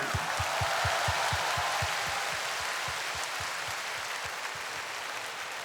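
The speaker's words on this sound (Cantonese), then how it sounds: "多謝，再俾多啲掌聲。" A concert crowd at a live 2016 Hong Kong show honouring a lyricist applauds in a thick, sustained wash over a steady, regular low thumping beat that fades slightly toward the end.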